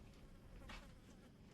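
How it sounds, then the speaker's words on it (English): Flies buzzing constantly, forming a faint, steady, unbroken drone with no other sounds. "outside of the constant buzzing sound of flies"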